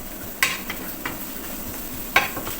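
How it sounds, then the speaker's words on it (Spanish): Garlic and onion sauté in olive oil with a soft, steady sizzle, punctuated by a few crisp clinks and scrapes of a utensil stirring the pan, close and without speech. "vamos a sofreír primero el ajo y la cebollita"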